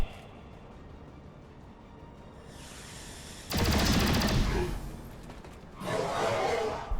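Gunfire in XCOM 2 War of the Chosen on a landed UFO mission: quiet ambient hum, then a loud burst of rapid automatic fire, a pause, and a second shorter burst.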